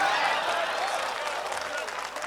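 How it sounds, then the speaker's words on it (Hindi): An audience at an All India Mushaira in Pachrukhi, Siwan, Bihar applauds to welcome the poet Manika Dubey, a dense, steady wash of clapping from a large crowd that tapers slightly toward the end. "तालियों की गूंज में इस्तकबाल कीजिए मोहतरमा मनिका दुबे का"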